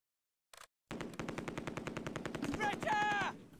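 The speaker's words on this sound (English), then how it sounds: "An MG42 opens up and my Bren section takes a casualty." An MG42 machine gun opens fire in the Close Combat: A Bridge Too Far game, a rapid, loud, continuous rattling burst after a brief blip, with sharp metallic whistling tones rising in the final second.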